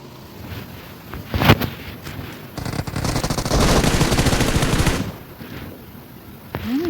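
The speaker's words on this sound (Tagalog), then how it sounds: "Hinahanap ko yung bumabaril." Rapid automatic gunfire from the mobile battle-royale game PUBG Mobile, a sharp single burst followed by a long sustained volley of shots, loud and close, then dropping off abruptly.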